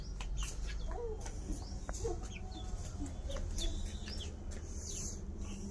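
A hen with her chicks clucks repeatedly nearby, short soft calls and faint high peeps scattered over steady outdoor background noise, with no talking.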